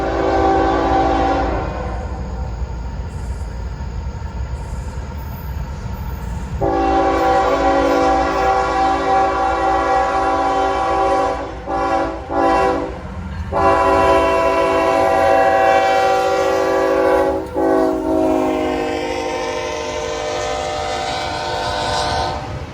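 A Norfolk Southern intermodal freight, symbol 28J, rolls past near Atlanta with a loud sustained horn blast, then two more long horn sounds over the steady rumble and clatter of passing railcars, up close.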